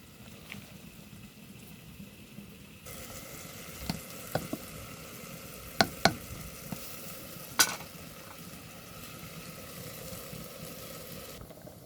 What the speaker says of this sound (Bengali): এবারে পাট শাক দিয়ে ফুটিয়ে নেব।